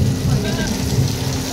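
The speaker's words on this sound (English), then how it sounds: "it started raining really hard" A simulated heavy rainstorm on a Universal Hollywood studio tour movie set pours down as a loud, dense, continuous wash of rain with low rumbling underneath.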